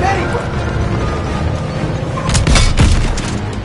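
Heavy booms and scattered gunfire rumble through a Call of Duty tank battle, a dense low roar with a louder cluster of blasts near the end, under shouted voices.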